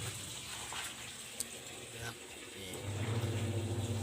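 A washing machine drain, fixed with a new drain head and a short length of pipe, lets water rush out in one go, a steady gushing flow that grows louder and fuller toward the end, with someone talking over it.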